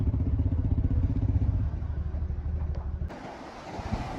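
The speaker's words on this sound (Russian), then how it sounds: "Вот такие волны, как на море прям." Waves on the shore of Issyk-Kul lake in Kyrgyzstan make a steady rushing wash with a low rumbling roar, loud and close, easing off and turning thinner and quieter partway through. No one speaks.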